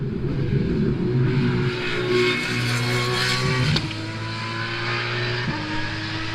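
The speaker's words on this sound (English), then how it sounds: "Just listen to this hypercar flying around the track." Aston Martin Valkyrie LMH hypercar with a Cosworth V12 racing around a track, its high-pitched engine screaming steadily and loudly, with a sharp gear change partway through, heard alone without speech.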